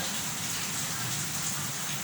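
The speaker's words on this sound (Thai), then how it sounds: "ฝนตกเลยจ้ะ" Steady rain falls outdoors in a continuous even hiss, close and moderately loud, with no pause or change through the short stretch.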